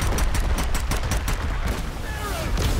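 Continuous rapid gunfire from a weapon blasting glowing orbs inside the Great Pyramid in Strange Brigade, a dense rattling barrage with a faint whistling tone near the end.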